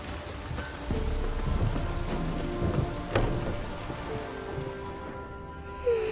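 Steady rain in The Witcher 3 video game patters across surfaces with a soft, continuous hiss, with a few sharper drips and a faint rumble; no voices.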